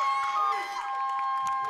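A home basketball crowd cheers and shouts in a gym, a steady roar of voices with whoops rising through it, heard continuously at moderate distance.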